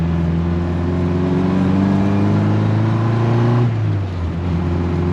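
A 1963 Mini's small engine hums with a steady low drone while driving, its pitch holding even and then easing down near the end, close and continuous with no talking.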